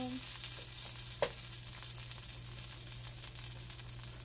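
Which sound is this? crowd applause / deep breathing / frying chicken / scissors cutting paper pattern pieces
frying chicken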